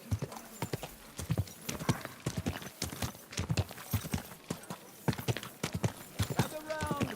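Horse hooves clip-clopping steadily with an occasional whinny in the medieval video game Kingdom Come Deliverance II, close and continuous under ambient game sounds, with a voice speaking briefly.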